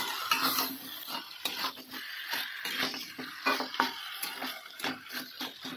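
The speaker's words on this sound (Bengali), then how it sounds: "এখানে আমার মাংস কষা চলছে এখন" Meat is slowly fried down with spices and oil in a pan, a spatula scraping and stirring in rapid, irregular strokes over a faint sizzle, with no talking.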